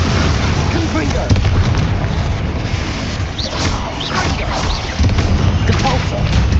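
Fiery Confringo spell blasts in the Hogwarts Legacy game, a dense rumbling explosion that swells and rolls on for several seconds amid crackling bursts, with a voice speaking over the din.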